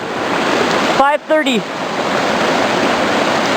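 Water rushing loudly and steadily in Dry Creek on a hiking trail, a close constant roar, briefly interrupted by a short voice.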